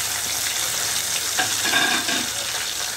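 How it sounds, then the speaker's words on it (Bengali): Bata fish frying in a pan of hot oil, giving a steady, dense, close sizzle that holds throughout, with a brief scrape or shift of the pan midway and no voices. "প্রথমে যার জন্য মাছগুলো আমি ভেজে নিচ্ছি"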